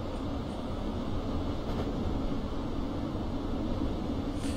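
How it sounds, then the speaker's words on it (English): Simulated BR442 Talent electric multiple unit in Train Simulator 2016 braking to a stop on the Munich–Augsburg line, a steady low rolling rumble with faint rail noise and no talking. "It does a fixed application of the air brakes"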